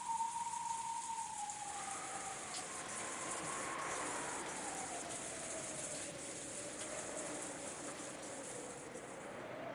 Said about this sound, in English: Outside it was raining.